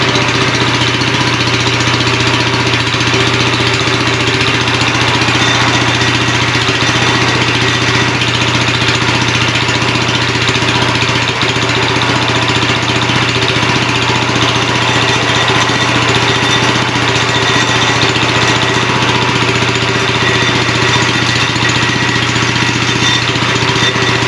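A power trowel's small engine idles at steady low throttle, a constant droning hum with a faint knock that stays loud and unchanged throughout, with no voices.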